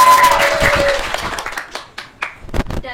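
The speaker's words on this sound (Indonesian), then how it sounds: "Beri tepuk tangan." A school audience of students claps after a correct answer in a quiz show, a short burst of applause that thins into a few scattered claps as it fades.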